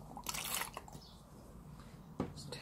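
Water is added to thick blue paint, giving a few faint, brief wet drips and splashes, one cluster early and a single one near the end, in an otherwise quiet room.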